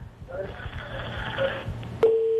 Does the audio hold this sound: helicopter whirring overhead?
no